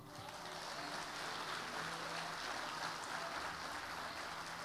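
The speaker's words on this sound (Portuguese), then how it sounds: "Dê um aplauso a Ele" Church congregation applauding together, a sustained wash of many hands clapping at moderate level that holds steady throughout without speech on top.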